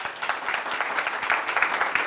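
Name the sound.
audience applause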